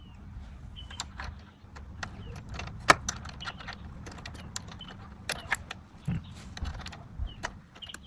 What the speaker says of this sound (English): I'm going to do is loosen these bolts here. I've got a 10.